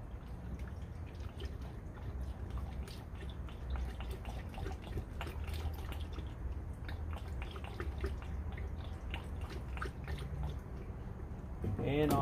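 Prestone antifreeze poured from a jug through a funnel into the radiator of a Mazda NB Miata, a steady trickling, dripping liquid flow close by over a low background rumble.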